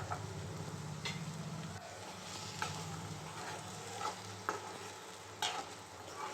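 Tomato paste added to onions frying in a pan, with a steady low sizzle and scraping stirs of a spoon at intervals, close and moderately loud, no talk.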